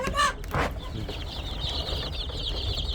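Chickens and two-week-old chicks on a farm raising native Korean chickens, with a few sharp clucks up front followed by steady high peeping from many chicks nearby.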